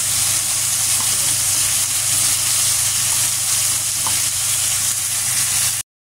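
Garlic and ginger sizzle steadily in a hot pan in a kitchen, a continuous bright frying hiss with small pops, close and fairly loud, ending abruptly in silence.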